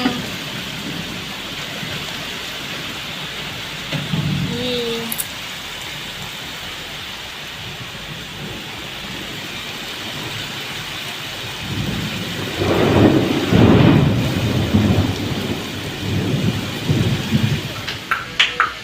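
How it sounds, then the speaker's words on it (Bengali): Steady rain falls outdoors through the whole stretch, with a low thunder rumble rolling in near the end and a brief earlier grumble; no one talks. "বৃষ্টি হচ্ছে শোনো"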